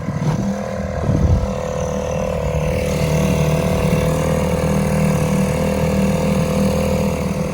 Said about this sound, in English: I'm gonna throw the outboard on there